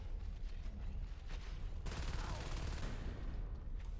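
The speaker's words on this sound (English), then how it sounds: "Marines just recycling shotguns as fast as they can at this point." Marines firing shotguns in Natural Selection 2, a rapid run of gunfire blasts that blur into continuous shooting amid game effects, fairly faint in the mix.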